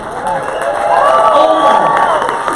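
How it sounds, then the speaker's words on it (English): A crowd cheers and shouts enthusiastically, a dense wash of voices swelling slightly and holding steady for a couple of seconds. "Let's cheer loud for them."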